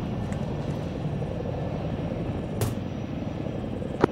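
A Chinook helicopter in Arma 3 drones steadily with a dense rotor and engine rumble, continuous and fairly loud, with a brief sharp click partway through and no talking.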